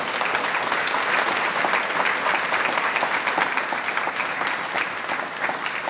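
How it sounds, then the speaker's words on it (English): Award winners and guests at the Gaisce Gold Award Ceremony in Ireland give a loud, sustained round of applause, dense even clapping from a large audience filling the room without pause. "so give yourselves a huge round of applause."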